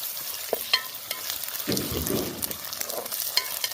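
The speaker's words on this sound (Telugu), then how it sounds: "అల్లం పేస్ట్ మంచిగా ఫ్రై అయింది" Fresh ginger paste fries in a pan with a low steady sizzle, punctuated by light ticks and scrapes of a spoon stirring and a brief thicker bubbling burst midway, no one speaking.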